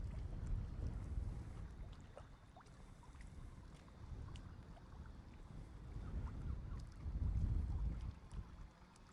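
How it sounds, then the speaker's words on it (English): Wind gusts at a carp fishing lake rumble into the microphone in low, uneven surges, rising strongest near the end, with no talking. "Waiting for a wind gust to die down."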